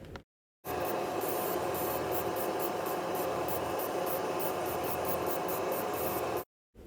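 Airbrush spraying fine paint onto a 3D printed Spider-Man statue, a steady close hiss running unbroken for about six seconds between short silences.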